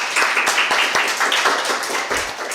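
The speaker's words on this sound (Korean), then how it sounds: "우리 위로와 또 격려의 박수를 한번 보내주면 좋겠습니다" A church congregation at a Sunday service claps together in comfort and encouragement, a short burst of uneven hand claps lasting a couple of seconds, fairly close and fading slightly at the end.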